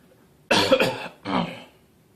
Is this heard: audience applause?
no